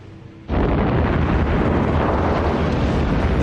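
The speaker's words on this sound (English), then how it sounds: "Japanese bomb the northern city of Darwin" Bombs exploding during the Japanese air raid on the northern city of Darwin: a sudden loud blast breaks in after a quiet moment, then a dense, sustained roar of rumbling explosions continues without letup.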